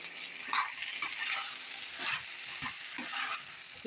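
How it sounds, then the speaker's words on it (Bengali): Vegetable curry with spices being stirred in a pan, with steady low sizzling and repeated scraping strokes of the spoon at a close, moderate level, no voices. "ভালো করে নাড়াচাড়া করতে হবে"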